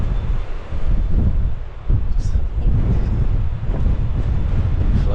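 Strong wind buffets the microphone outdoors on a dull, windy day at Quineville on the Normandy coast, a loud continuous rumbling roar with gusty surges and no voices.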